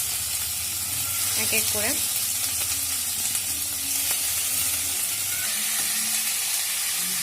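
Marinated chicken pieces hit hot oil and sizzle steadily throughout, a constant frying hiss with a voice speaking over it.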